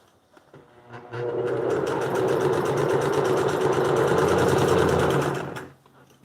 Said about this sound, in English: Let me continue sewing.